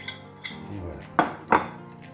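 Tuna quiche filling being mixed in a bowl, a few soft scraping stirs followed by two sharp clinks of a utensil against the bowl, close and isolated.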